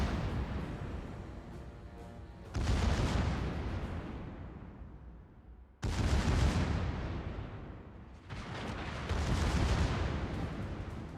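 Secondary guns firing shells in the video game World of Warships: repeated heavy booming salvos in three bursts, each fading into a long rolling rumble, loud and dense, with no talk over them.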